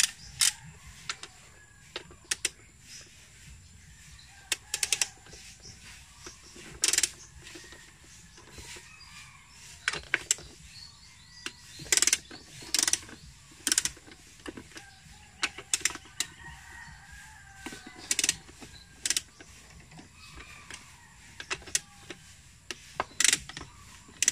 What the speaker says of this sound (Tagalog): sa pagbubukas nito ay gagamit po tayo ng gis na yabe